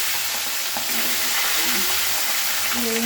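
A rohu fish head fries in a pan of hot oil, giving a dense, continuous close-up sizzle with small popping crackles throughout.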